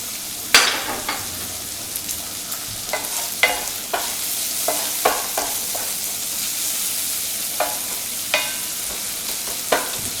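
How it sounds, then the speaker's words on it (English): Pancetta sizzling steadily in a hot pan, a constant crackling hiss with sharp pops and spatters scattered throughout, close up and no talking. "We're getting good sizzle."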